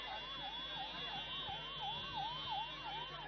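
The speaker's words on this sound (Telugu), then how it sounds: "అంబులెన్స్ వస్తుంది, అంబులెన్స్ కు దారి ఇవ్వాల్సిందిగా కోరుతా ఉన్నాము." An ambulance siren wails in a rapid, repeating up-down sweep as it passes through a crowd at a Bonalu festival gathering in Hyderabad, steady and moderately distant over a low crowd murmur.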